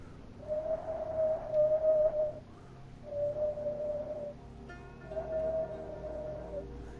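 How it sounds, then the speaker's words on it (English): A person whistles through the gap in their front teeth, producing three sustained, airy tones in a row, each a couple of seconds long with brief pauses between, close and fairly soft. "I can actually whistle through my front teeth as well."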